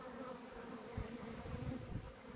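A swarm of honeybees is being gathered into a box, giving a faint, continuous buzzing hum that wavers slightly in strength, with no voices present.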